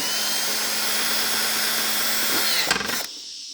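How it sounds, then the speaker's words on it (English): A power drill whines steadily at close range, then bites into urethane and briefly bogs down before stopping abruptly. "You've got to watch the edge of that drill bit, it'll bite and really chew in."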